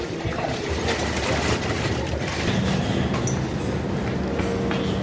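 A train pulling into Naxalbari station, a continuous loud rumble of wheels and carriages with faint rattling, heard from on board.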